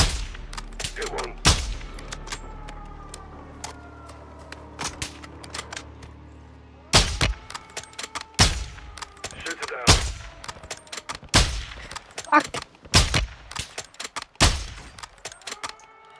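Call of Duty: Modern Warfare II gunfire: about a dozen sharp, loud shots crack out at irregular intervals, mostly in quick bursts, over a low in-game ambient bed that drops away partway through.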